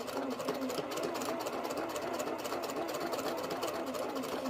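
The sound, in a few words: straight stitch sewing machine sewing quilt fabric with 1/4 inch foot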